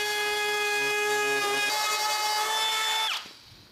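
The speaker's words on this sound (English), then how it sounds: "I was ready to start rounding over the edges on this aluminum" A router rounds over the edge of an aluminum table base, a high steady whine with strong tonal harmonics that cuts off abruptly near the end as the tool stops.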